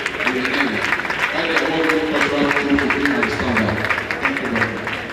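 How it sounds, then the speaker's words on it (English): Steady audience applause fills a conference hall at a national summit, a dense wash of clapping that holds at even loudness throughout, with voices and a hint of tonal sound underneath. "Please keep the applause rolling, keep it rolling."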